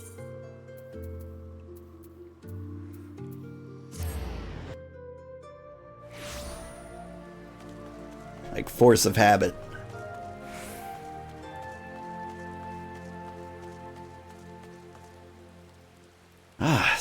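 Rain falls in Final Fantasy XIV, a soft steady patter beneath background game music, with brief louder splashy bursts; a voice talks briefly over it.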